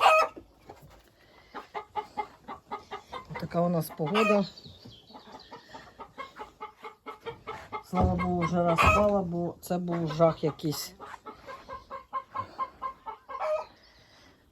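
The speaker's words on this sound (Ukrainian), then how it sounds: "Оце курочка. І то курочка. А ото може бути півник." Small young hens and a possible rooster kept at a village homestead cluck in bursts of repeated calls, near and fairly loud, while someone talks in between.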